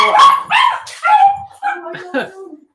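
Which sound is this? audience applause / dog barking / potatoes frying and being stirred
dog barking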